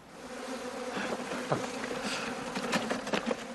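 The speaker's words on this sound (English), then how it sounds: "I'm going to wait for a local beekeeping expert to come and help me wrestle this swarm and get it into our Victorian cottage hive." A honeybee swarm on a Victorian-era farm hums close by, a continuous layered buzz with individual bees swooping past the listener in rising and falling passes.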